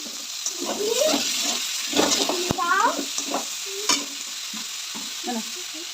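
Chopped green chillies and shelled peas frying in a pan for an egg paturi dish, a steady sizzle with scraping stirs and a few sharp clanks, while voices talk over it throughout.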